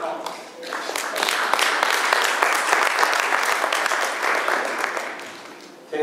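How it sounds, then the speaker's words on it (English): A conference audience applauds after a panel presentation, a loud, sustained wash of many hands clapping that holds steady for several seconds before thinning out, with some speech mixed in. "Could we give a loud applause, please?"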